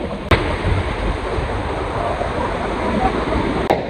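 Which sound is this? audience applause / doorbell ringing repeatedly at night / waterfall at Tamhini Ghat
waterfall at Tamhini Ghat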